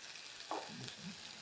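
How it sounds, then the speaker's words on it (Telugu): Herbal hair oil with fenugreek leaves boiling in a pan gives a soft, steady bubbling hiss, faint and close, with a couple of brief louder bubbles. "సో ఇది ఆయిల్ మనకి మరుగుతుంది కదా సార్ ఇక్కడ."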